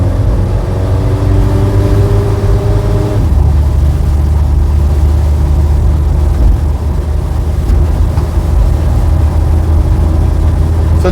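A Standard Atlas pick-up engine is heard from inside the cab as the gearbox kicks down. A loud, close mechanical drone steps in pitch as the revs drop and then climb steadily under acceleration.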